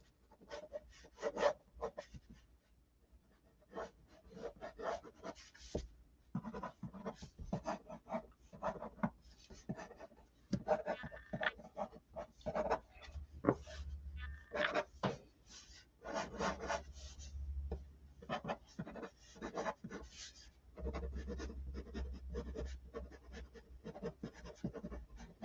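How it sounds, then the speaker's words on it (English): A pencil sketches a Mongolian death worm drawing on paper, with close, quiet scratching and rubbing strokes in irregular bursts, some quick and short, others longer shading passes. "I'm sketching off this Mongolian deathworm here"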